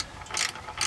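Ratchet wrench tightening the oil drain plug back into a 2004-2010 Ford F-150 Triton V8 oil pan, with short bursts of rapid metallic clicking close by, two main clicking runs separated by a brief pause, no talk.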